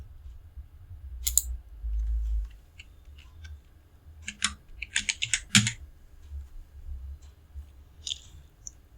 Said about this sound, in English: Type the text you want to find in the field.